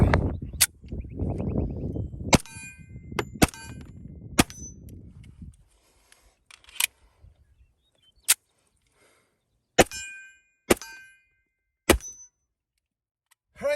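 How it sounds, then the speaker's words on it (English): A TISAS Night Stalker 1911 pistol fires about ten sharp, loud single shots at irregular intervals, after an opening stretch of rumbling noise, with short silences between the later shots. "Let's keep shooting."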